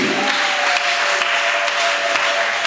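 A Sunday church congregation claps together in a dense, continuous wash of applause, with a few sharper claps standing out and faint voices mixed underneath.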